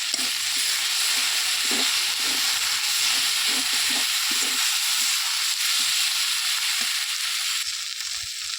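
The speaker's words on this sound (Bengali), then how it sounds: "সামান্য একটু কিছু টাইম ভেজে নেব যাতে আমার এখানে গন্ধটা চলে যায়" Spices with turmeric powder frying in hot oil for a small bata fish curry: a continuous bright sizzle and hiss, close and steady, with a few soft stirring knocks underneath and no talk.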